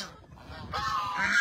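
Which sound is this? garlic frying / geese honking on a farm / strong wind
geese honking on a farm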